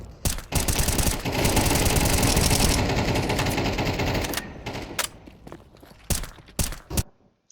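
Rapid automatic gunfire in Counter-Strike on the Mirage map sprays through smoke in a dense burst lasting several seconds, followed by scattered single shots and sharp clicks as the firing breaks off.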